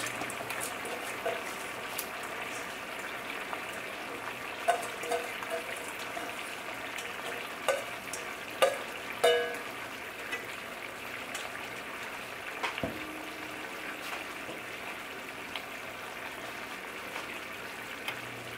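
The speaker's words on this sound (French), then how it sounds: "Donc maintenant, le riz est en train d'être bouilli dans l'eau." Rice boils in a pot of water with a faint, steady bubbling, broken by a few soft clinks and knocks.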